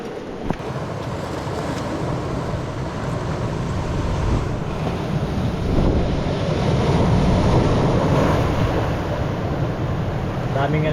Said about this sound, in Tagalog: Daming alon.